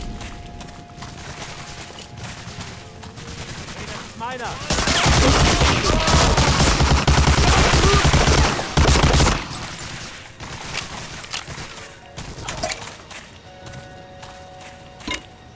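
Dense fusillade of gunfire in Medal of Honor: Allied Assault, a WWII battle, with a loud sustained burst of overlapping shots in the middle and sparser distant firing and mechanical clatter before and after.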